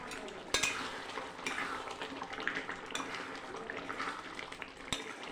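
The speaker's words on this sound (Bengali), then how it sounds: "নাড়াচাড়া দিয়ে নামিয়ে দেব।" Dahi chicken being stirred with ghee and ground garam masala in a pan, a steady close scraping and stirring with soft sizzle and occasional utensil clinks, no talk.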